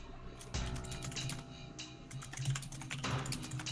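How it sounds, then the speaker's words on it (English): Typing on a computer keyboard, a quick irregular run of close key clicks and clacks with brief pauses, fairly quiet and with no talking. "I hear typing because RTX voice is off."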